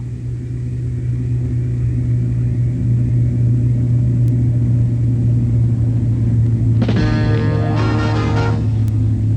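A spaceship lands in a science-fiction film, a loud, steady droning hum that holds for several seconds before a harsh, buzzing, metallic whine cuts in near the end.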